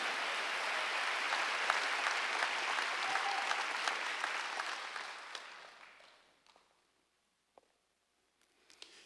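A church congregation at a Korean Wednesday worship service claps together in a dense, steady burst of applause that fades out after about six seconds, leaving near silence with a few faint knocks.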